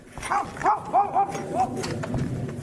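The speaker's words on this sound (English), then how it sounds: "That's when he hears his dog barking like crazy." A dog barks several times in quick succession, fairly close, with a rough, animated tone over faint background noise.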